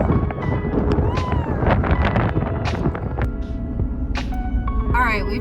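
Wind gusting across the summit of the Haleakala volcano, a steady, loud broadband rush and low rumble buffeting the microphone, with muffled voices underneath.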